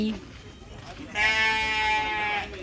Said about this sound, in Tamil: இது ஒரு விதமான ஆட்டுக்குட்டி.